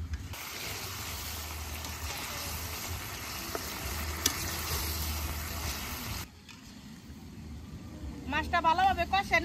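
Fresh river fish is stirred and fried in a pan with a loud, steady sizzle for several seconds. The sizzle then drops away to quieter cooking, and a voice speaks near the end.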